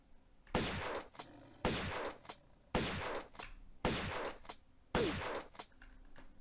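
Five heavy shotgun blasts fired at a panther in the Tomb Raider video game, evenly spaced about a second apart, each a loud boom with a short decaying tail and no talk.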